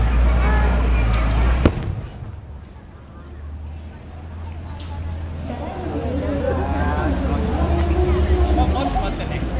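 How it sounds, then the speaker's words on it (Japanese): Loud fireworks boom and crackle, with a sharp bang partway through, then a lull before more popping and crackling returns amid distant crowd chatter. "花火と。"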